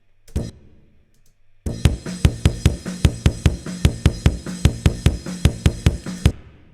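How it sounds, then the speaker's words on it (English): Poorly tuned kick drum from an unprocessed recording before sample replacement, striking about twenty times in a steady rhythm with a loose, flammy, boomy tone; a lone earlier hit precedes the run, with no talking. "So here's the kick sound before."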